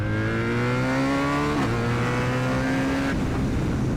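A 2025 BMW R 1300 GS motorcycle fitted with a VanDemon titanium exhaust revs loudly and close, its steady engine drone rising in pitch, dipping with a brief shift around halfway, then settling before easing off near the end.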